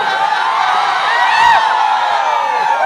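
An audience shouts and cheers with high whoops over a constant roar of clapping, loud and close throughout.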